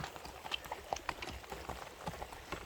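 A tall, well-built horse steps on the ground, giving soft, irregular hoof clops and thuds close by, faint overall, with no talk.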